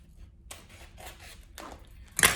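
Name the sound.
scissors cutting wire-edged ribbon strip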